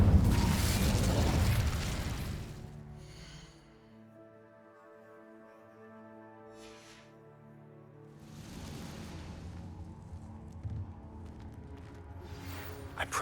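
Spell effects from Hogwarts Legacy, Expelliarmus and Incendio, burst out as a loud whooshing blast. A quieter stretch with a sustained tonal ring follows, then another rushing, crackling burst of magic.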